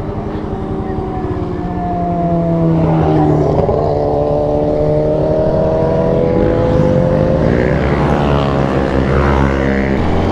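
A Kawasaki Ninja 400 motorcycle pulls away in first gear, its engine note climbing steadily from idle into a loud, rising drone that holds near and strong.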